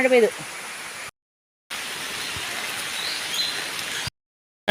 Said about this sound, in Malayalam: ഒയ്യോ മഴ പെയ്തു.